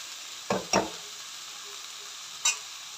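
Grated radish bhujia frying in a pan sizzles quietly while a spoon scrapes through it in two quick strokes, then once more after a pause; no talking.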